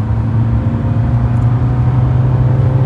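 Kia Sonet HTX 1.5 diesel manual car pulling hard in third gear during a top-speed run, a loud, steady engine drone with a constant low hum, close and continuous.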